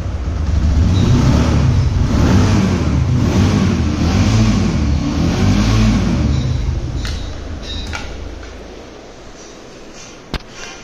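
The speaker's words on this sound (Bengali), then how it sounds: "গাড়িটির সাউন্ড আপনি লক্ষ্য করেন, শোনা যাচ্ছে, এটা দুম দুম দুম দুম ভাব আছে না" A secondhand Apache RTR 150 motorcycle engine runs close by, a loud deep throbbing thump that stays steady and then eases down toward idle, with a few sharp clicks near the end.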